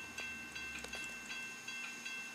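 A train idles in the Trainz video game, with a faint steady hiss and soft rhythmic clicks and thumps from the rail cars, quiet and without talk.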